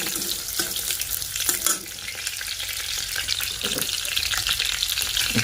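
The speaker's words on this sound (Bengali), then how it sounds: "পরিমাণ মতন পাঁচফোড়ন দিয়ে দিচ্ছে, হাতের মধ্যে তেলের ছিটা খেয়েছে।" Panch phoron spices sizzle and crackle in hot oil in a home kitchen, with a bright, continuous frying hiss broken by sharp spitting pops and occasional stirring.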